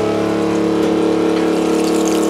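An off-grid washing machine pump runs steadily while drawing rinse water, a loud, constant mechanical drone with a watery churn, close by and heard alone.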